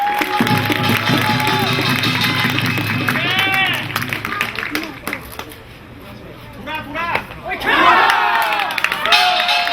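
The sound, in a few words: crowd applauding and cheering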